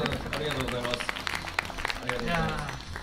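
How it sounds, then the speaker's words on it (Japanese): Audience applause at a live talk show with a motor journalist guest rises as a steady patter of clapping, heard under and between people talking close by. "ここ拍手、ここ拍手。"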